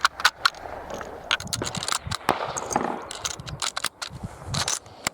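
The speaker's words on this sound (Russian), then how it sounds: "Первый патрон досылается в патронник, закрывается затвор." The bolt of a Mosin-Nagant sniper rifle is worked to chamber a round and close, giving close metallic clicks, scrapes and clacks in an irregular series.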